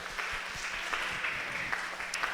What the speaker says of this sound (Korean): 우리 임원들 향해서 큰 격려하며 박수하겠습니다.